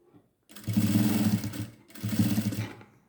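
Sewing machine stitching a lining skirt, two short runs of close, humming stitching with a brief pause between them, no talking.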